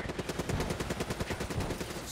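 Rapid automatic gunfire from Call of Duty Black Ops III multiplayer, a steady burst of closely spaced shots that runs loud and continuous for about two seconds with no talk over it.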